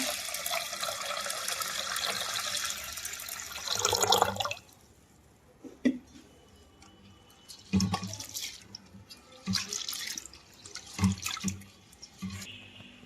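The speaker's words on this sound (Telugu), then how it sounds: "ఇప్పుడు దీనిలో వాటర్ పోసుకొని పప్పు కడిగేసుకున్నాను" Lentils for a drumstick dal are rinsed in water in a vessel: a steady rush of pouring water for about four seconds, then a series of separate sloshing splashes as the dal is swirled, with no talking.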